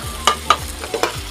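Spoon or spatula stirring corn being sautéed in a pan for Filipino ginisang mais, with several distinct scraping strokes over a low sizzle, close and moderately loud, no talking.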